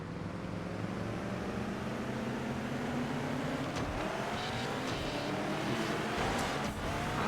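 A steady, droning muscle car engine in Burnout 3: Takedown hums continuously throughout, with a slight rise in pitch and intensity toward the end, like an idling muscle car revving gently.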